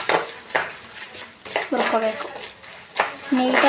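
Chana dal and urad dal being roasted in a pan while being stirred for chitranna: repeated metallic clinks and scrapes of a spoon against the pan, coming in irregular bursts at close range.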